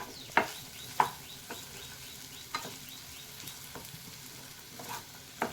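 Onions fry in a pan with a quiet, steady sizzle, broken by several sharp scraping stirs of a utensil at irregular intervals.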